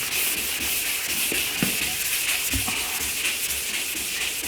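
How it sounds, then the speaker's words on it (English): Steady close-up rubbing and scraping of a sanding block worked back and forth over a wet primed car panel, continuous with slight rhythmic strokes. "wet sanding, I'm gonna go ahead and do a little bit of the bottom of this panel now"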